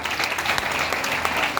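Audience applause fills a Tiens India event hall in Delhi, a steady dense wash of many hands clapping continuously at moderate loudness with no break.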